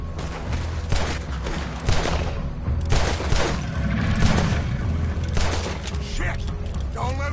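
Rapid volleys of gunfire ring out in the Red Dead Redemption 2 video game, with bursts of sharp shots and booms spread across the clip amid shouting voices and a continuous background hum.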